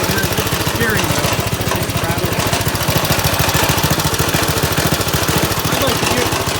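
Rebuilt Briggs & Stratton 5 hp small engine idling steadily with a fast, even low chug and light rattle from a loose steering wheel, close and constant throughout.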